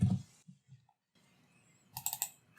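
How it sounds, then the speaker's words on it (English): A few soft computer keyboard keystrokes come in short separated clicks, then a quick close burst of typing at the end, in a quiet room with no speech. "Let's type in Jane,"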